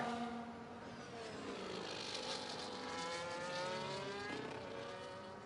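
Distant, high-pitched ground-effect era F1 car engines in the game F1 24 whine continuously during qualifying, pitch rising and falling as they rev and shift, fairly quiet with no talking.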